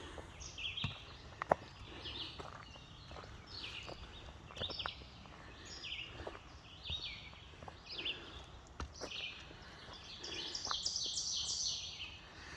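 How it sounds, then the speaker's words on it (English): Several songbirds sing in a healthy forest at Promised Land State Park, with overlapping chirps and warbling phrases at moderate distance, scattered sharp clicks and a quiet background throughout. "you can tell how healthy a forest is by stopping and listening to how many songbirds there are"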